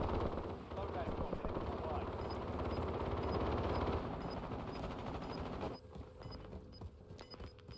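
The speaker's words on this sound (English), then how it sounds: "A lot of shooting going on over there." Distant, rapid gunfire from Warzone rattles in dense bursts for several seconds beneath a game mix of chirping tones, then cuts off to a quieter backdrop.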